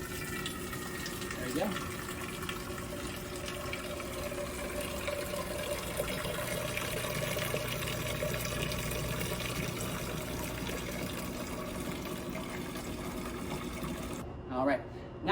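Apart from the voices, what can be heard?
filling 3-gallon keg with cold brew tea via valve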